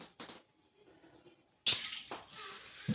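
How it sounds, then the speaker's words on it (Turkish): A tray is washed under running water in a home kitchen, with a quiet start of faint rinsing followed by a louder burst of splashing tap water and clattering, close by. "Evet şimdi tepsini falan yıkarım."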